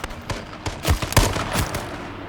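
Gunshots in the video game H1Z1 come as a rapid cluster of several close, sharp cracks, bunched into a short burst.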